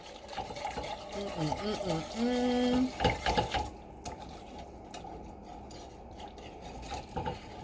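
Spoon stirring a green bean casserole in a pan, clinks and soft scraping against the metal close by, with a brief tonal squeak in the middle and quieter stirring afterward.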